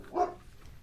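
A dog gives a single short bark, fairly close and brief, over quiet background noise.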